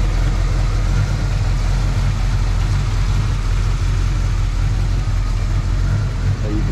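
A 1972 Buick Gran Sport Stage 1 V8 idles loudly and close, its deep, steady rumble carrying a slightly lumpy cam beat with no break.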